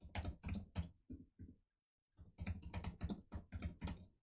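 Fingers type on a computer keyboard up close, in quick clusters of sharp clicks that pause briefly in the middle before picking up again. The typing is quiet.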